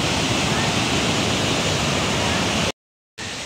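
A strong river current rushes below a waterfall, a loud, steady broadband roar heard close by, briefly cut to silence near the end before resuming.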